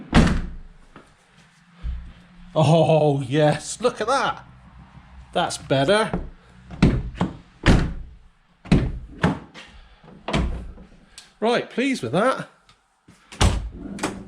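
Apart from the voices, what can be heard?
Vauxhall Vivaro van rear doors being closed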